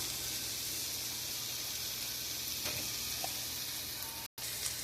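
Bottle gourd peels sizzle steadily in a hot frying pan as salt is added, a continuous close crackling hiss with a faint stir scrape partway through and a brief cut near the end.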